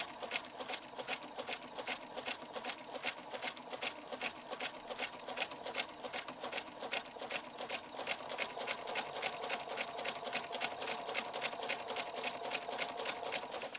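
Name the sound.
sewing machine stitching a corset boning channel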